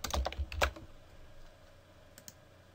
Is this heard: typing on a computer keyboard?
yes